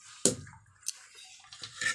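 Water splashes and sloshes in a few brief bursts as spinach is washed for a dal, with quiet gaps between the splashes.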